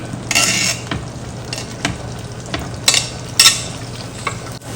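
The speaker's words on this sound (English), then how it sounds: "we're gonna add in our broccoli to saute that" Broccoli sautéing in butter or oil in a frying pan, a steady close sizzle with a spoon stirring and scraping through it in a few short bursts.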